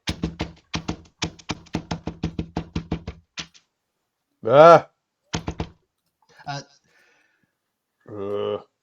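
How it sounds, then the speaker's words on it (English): Someone knocks on a door in a fast, uneven flurry of about twenty sharp raps, then gives a couple of isolated knocks. Brief voice-like sounds come between and after the knocks. "Stefan knocks quite early on Saraya's door"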